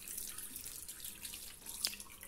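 Tap water runs steadily from a faucet into a sink while someone rinses their face, a soft continuous splash with one brief louder drip or splash near the end, fairly quiet and close.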